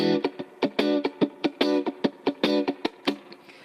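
An overdriven electric guitar strums a loose, swinging sixteenth-note pattern with uneven long-short spacing, played on its own without voices.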